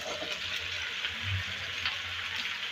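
Chopped bottle gourd drops into hot oil tempered with bay leaf, cumin and whole dried chilli, raising a soft, steady sizzle that runs on evenly with no one talking.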